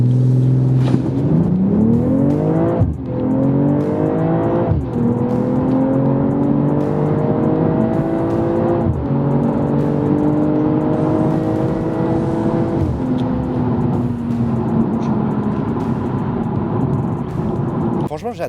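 BMW M440i accelerating hard from 0 to 100 km/h in launch control: a loud engine surges and climbs in pitch, dropping briefly at each of several gear changes before revving up again, close and continuous.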